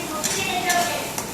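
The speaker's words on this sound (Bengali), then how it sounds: "এবং এরপরে আমি এর মধ্যে হলুদ এবং লঙ্কা গুঁড়ো দিয়ে দিলাম এবং ভালো করে মশলাটাকে তোমার কষিয়ে নিচ্ছি" Turmeric and chilli powder spice paste stirred and fried in oil for a Bengali fish kalia, soft sizzling with a few scraping stirs of a utensil against the pan, close and steady.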